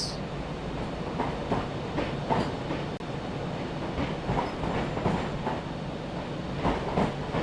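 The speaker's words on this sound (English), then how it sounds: "Avanti West Coast service from Edinburgh Waverley to London Euston" An Avanti West Coast electric train passes at Crewe on the West Coast Main Line in Train Sim World 6, a steady loud rumble with rhythmic clickety-clack from the wheels over the rail joints, heard alone without talk.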